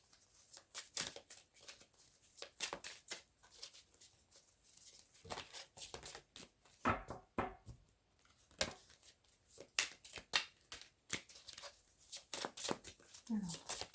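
Tarot cards are shuffled and drawn close up, giving bursts of crisp riffling and flicking with soft slaps and paper rustles, scattered unevenly throughout and quiet overall.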